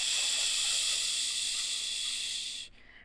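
A long, steady hiss of yoga breath pushed out through the teeth during a seated twist, close and fairly loud, holding for over two seconds before cutting off abruptly. No speech over it.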